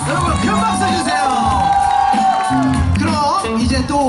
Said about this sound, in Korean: 여러분 큰 박수 주세요.